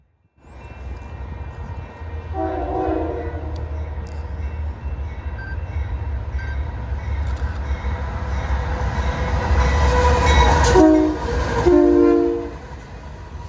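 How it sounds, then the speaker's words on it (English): An eastbound Union Pacific intermodal freight train rolls past up close, a steady heavy rumble of cars and wheels with brief horn-like tones sounding near the start and again toward the end. "So first up, here's the eastbound UP intermodal."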